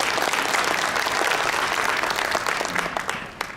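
Applause from the audience at a smart city panel symposium, a dense, steady roomful of clapping that fades slightly toward the end.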